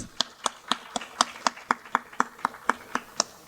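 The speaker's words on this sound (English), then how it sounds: "Let's cheer ourselves with a good round of applause for the event in the first place." Steady, evenly spaced handclaps, about four per second, at a science education awards ceremony; crisp and fairly close, like one or a few people clapping in rhythm rather than a full crowd.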